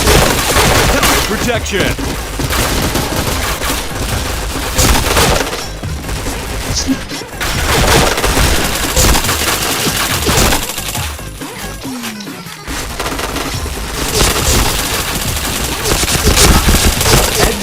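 Near-constant automatic gunfire from a first-person shooter video game, a dense loud clatter of bursts running through the whole stretch, with a player's voice talking over it at times.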